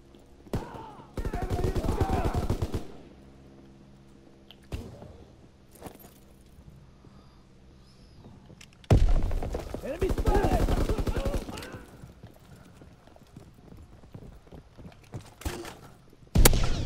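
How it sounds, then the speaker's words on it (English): Call of Duty WWII gunfire with a Ronin 2 sniper rifle among it: loud bursts of rapid shooting, a few sharp single cracks between quieter stretches, and a final close shot at the end. "Just got this Ronin 2. So yeah, it's a pretty nice sniper rifle."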